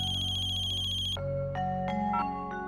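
A phone ringtone plays loudly and steadily, a sustained tone shifting into a series of bright repeating electronic notes.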